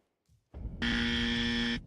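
A game buzzer blares as one loud, steady electronic tone lasting about a second, preceded by a few short soft clicks, close and clear with no voices.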